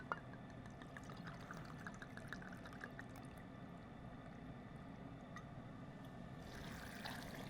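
Red wine, about a cup from a freshly opened bottle, poured over cherries in a kitchen, a soft steady liquid trickle that runs close and quiet for several seconds with no talking.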